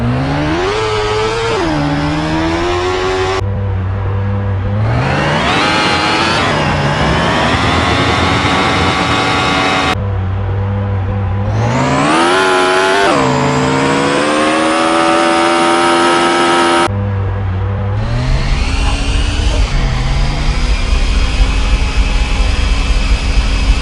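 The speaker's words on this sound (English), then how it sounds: "here's the engine sounds" Monoposto 2023 open-wheel racing car engines in a mobile racing game, several loud revving runs that climb steadily in pitch through the gears, each ending abruptly before the next begins.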